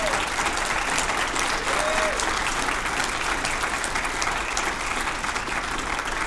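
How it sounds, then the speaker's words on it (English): Steady, dense applause from an audience at a concourse presentation event, clapping for the board of trustees, sustained and fairly loud throughout with a faint voice tone briefly rising above it. "please give them a round of applause."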